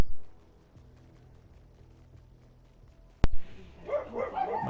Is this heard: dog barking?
yes